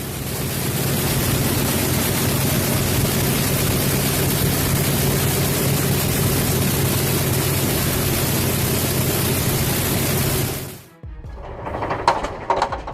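A Pratt & Whitney R-2800 CB air-cooled radial aircraft engine runs with a dense, steady roar and low throb for about ten seconds, then cuts off abruptly, leaving faint clatter.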